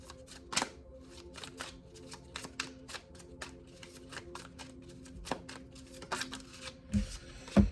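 Tarot deck shuffled and cards drawn, with repeated light papery taps and flicks in a loose rhythm and a few louder handling bumps near the end, close and soft.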